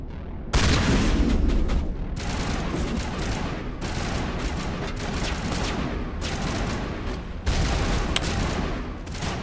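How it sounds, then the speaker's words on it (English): Repeated heavy blasts of gunfire and explosions from combat in Mass Effect, including a detonated grenade, loud broadband bursts separated by short gaps, with a sharp explosion near the start and another near the end. "I detonated the grenade"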